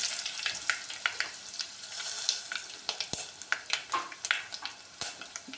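Dried red chilies frying in hot oil in a pan for a greens rasam, with a steady sizzle and repeated sharp clicks and scrapes of a spoon stirring, close and alone.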